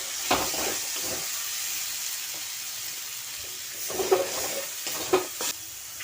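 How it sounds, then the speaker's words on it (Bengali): Spice masala of ground coriander and salt is being stir-fried with a little water in a pan. A soft steady sizzle and steamy hiss runs under intermittent scraping and clattering stirring strokes. The sound is close and moderate, with no speech. "সামান্য জল দিয়ে মশলাটা ভালোভাবে কষিয়ে নেব।"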